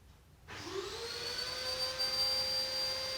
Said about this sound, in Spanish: Vamos a proceder ahora a encender la aspiradora